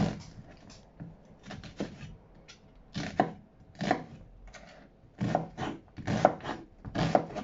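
Knife slicing into an onion on a board, a series of crisp chopping knocks in uneven clusters, close and clear with quiet gaps between cuts and no talking.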